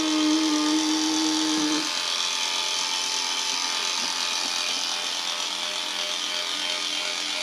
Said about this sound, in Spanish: vamos a batir nuestros huevos con el azúcar